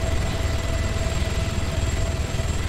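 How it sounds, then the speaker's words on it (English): In-game helicopter in Arma 3 flying through a sandstorm, a constant close rotor and engine drone with low pulsing thump and a steady whine, no talk. "I'm surprised this helicopter can fly in it"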